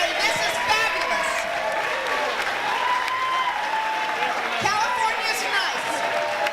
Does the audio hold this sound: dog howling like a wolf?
no